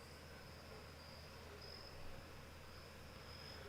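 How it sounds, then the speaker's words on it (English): Crickets chirp outside an open door in a rural setting, a faint, steady high trill running continuously over a quiet indoor background hiss. "He said he can hear the crickets."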